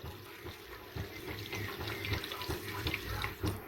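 Milk is poured over rice coated in cream in a baking dish, a steady close liquid splashing and gurgling with soft bubbling pulses, fairly quiet and without talk.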